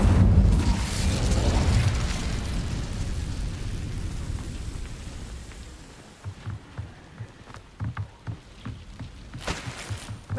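In Hogwarts Legacy, an Incendio fire spell goes off with a loud fiery roar and crackling burst. The blast fades into scattered pops and crackles of lingering flames, close up and without voices.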